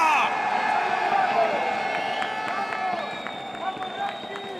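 An esports crowd at a Call of Duty League tournament cheers and whoops loudly at the start, then settles into sustained arena noise with scattered shouts.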